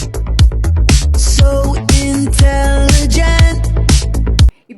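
A short burst of a punchy pop song with thumping kick drum, bright synths and a vocal line, cutting off abruptly at the end.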